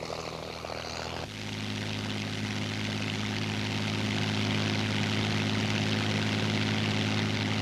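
A 1930s Hawker Hind biplane's piston engine and propeller, a steady droning roar that swells after a second and holds loud and continuous as if close by.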